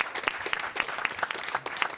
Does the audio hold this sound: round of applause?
yes